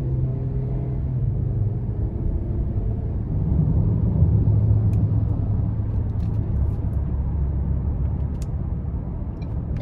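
A 2024 Ford Edge SEL AWD accelerating, heard from inside as a steady low engine drone and road rumble that swells slightly midway and holds, with no talk.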